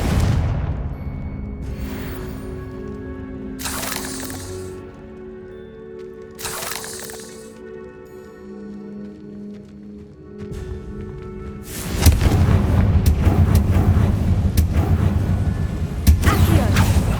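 Fiery Confringo spell blasts from the Hogwarts Legacy video game boom and crackle in several bursts, ending in a loud, sustained roar of explosive rumble.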